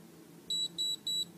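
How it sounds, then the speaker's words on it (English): Three short, high-pitched electronic beeps from an ageLOC Galvanic Spa device in steady succession over a faint low hum, with no voices. "press a button so that hopefully you get the 3 beeps"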